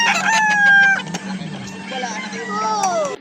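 Rooster crowing at a Batangas chicken market, a couple of drawn-out crows close by over a steady low hum and crowd chatter, with a voice talking in the background.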